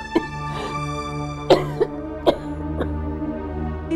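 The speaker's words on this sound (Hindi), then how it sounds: "माँ को फिर से खांसी का दौरा पड़ा" Several sharp coughs in an irregular fit, close by, over a steady tonal background hum with no talking.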